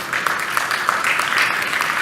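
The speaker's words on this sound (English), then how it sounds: "Let's give her a round of applause." A crowd claps steadily, a dense, even patter of many hands filling the whole stretch at moderate loudness.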